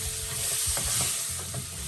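Chicken leg pieces frying in a pan, with a steady loud sizzle and a few scraping stirs of a spoon through the hot oil, close by and with no voices.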